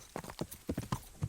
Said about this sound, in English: Where is the horses?